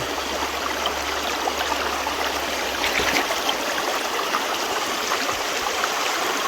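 Water trickles steadily through a gold sluice over worked bedrock, a continuous close hiss and splash with a small brighter gurgle midway and no voices.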